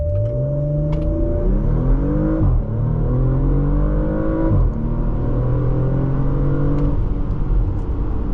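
A 2023 Porsche Macan S accelerates hard with traction control off and chassis stiffness at maximum, its engine note climbing steadily through repeated rising sweeps, with brief dips at each gear change across about eight seconds, loud and close.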